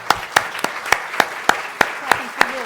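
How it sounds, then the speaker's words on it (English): Steady, evenly spaced claps ring out after a conference session in a hall, sharp and fairly close, with no talk over them. "Clapping for you, not for myself."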